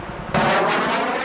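A Cobra attack helicopter fires a 2.75-inch rocket in forward flight, a sudden loud whooshing blast that cuts in and sustains a broad roar over the helicopter's rotor hum.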